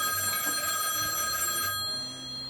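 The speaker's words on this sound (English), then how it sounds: "Yeah, that's the payphone." A payphone rings at a live venue with a bright, metallic bell tone that holds steady and close for about a second and a half, then cuts off, leaving faint room murmur.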